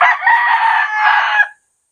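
A rooster crows loudly and close by in a backyard, one sustained call lasting about a second and a half before cutting to silence.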